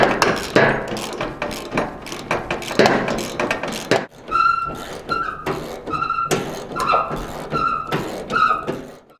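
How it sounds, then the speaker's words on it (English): Removing the lower tailgate hinge bolt on a 1958-1966 Chevy/GMC truck: a quick series of sharp metallic clanks and taps, then ringing metal-on-metal hits in an uneven rhythm, close and fairly loud. "I'm going to shut the tailgate and I'm going to take this lower bolt out first"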